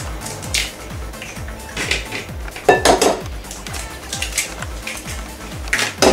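Eggs being mixed into grated courgettes in a bowl, a quick repeated scraping and clinking of a utensil against the bowl, steady and close throughout with a few louder knocks.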